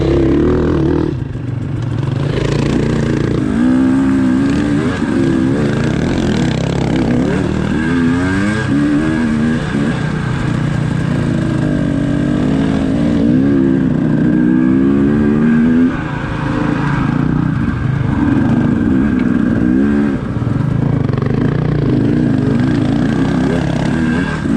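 Husqvarna dirt bikes climb rocks in the snow: loud, close engines rev and bog, their pitch rising and falling continuously as they labour over the terrain.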